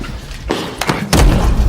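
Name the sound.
head slammed onto table in film scene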